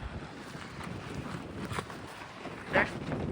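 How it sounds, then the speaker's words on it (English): Strong wind at an Icelandic waterfall buffets the microphone in uneven gusts, with a louder rush near the end and a faint roar of water behind. "it's so windy"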